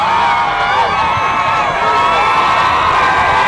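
A huge crowd cheering at a college football game between McGill-Tulane, with a loud, steady roar of many voices shouting and whooping, sustained throughout and nearby.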